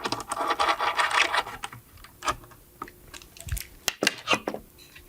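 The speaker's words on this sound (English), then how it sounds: "now we'll add our 1/4, 20 screws into the top plate" Small screwdriver clicks and metallic scraping as 1/4-20 screws are fastened into a Sony Burano camera top plate, with irregular close ticks and rustles at moderate level.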